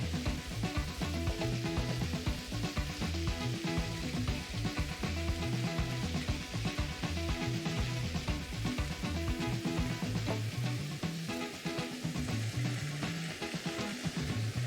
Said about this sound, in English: Turn down the sizzle a little bit.